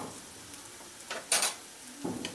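Onion and chopped garlic frying in oil while being stirred, a faint low sizzle broken by a few soft scraping stirs, quiet and close with no talking.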